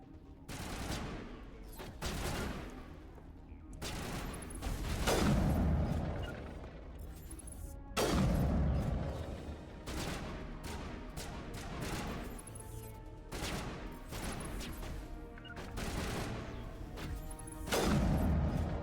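Mass Effect gunfire, repeated bursts of shots and loud impacts recurring every few seconds over a steady game soundscape with booming explosions.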